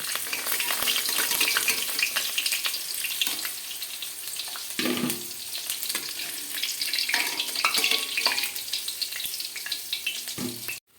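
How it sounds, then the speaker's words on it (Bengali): Potato pieces frying in hot oil in a home kitchen during mutton curry preparation, a steady loud sizzle lasting throughout with occasional stirring scrapes and a brief splash of water near the middle. "এবার আমি এক এক করে আলুগুলো সব ভেজে নেবো"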